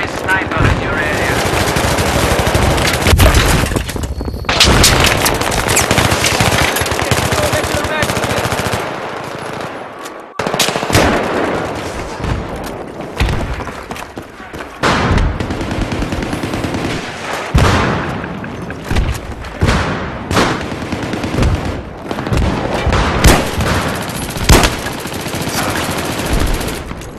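Machine gun fire in Battlefield 3, loud sustained automatic bursts with scattered gunshots and booms throughout a chaotic firefight, with brief quieter gaps and radio-style voice callouts in places.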